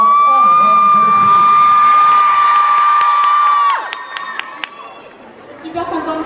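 At an awards show, a crowd cheers and shouts loudly for several seconds over a steady held tone, then the noise drops away into scattered sharp sounds and quieter chatter.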